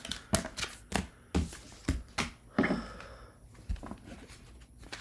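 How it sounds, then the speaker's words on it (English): Tarot cards are shuffled by hand in a run of crisp taps and riffling flicks, close and fairly quiet with no talking. "All right, I'm going to shuffle and move into Virgo."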